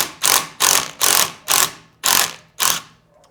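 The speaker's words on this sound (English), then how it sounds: "Then you have a 5mm Allen right here. Just need to loosen it." A 5mm Allen key ratchets loose a handlebar bolt on a 2024 Triumph Bonneville Bobber, giving six loud, close, evenly spaced metallic clicking bursts in a row, then quiet.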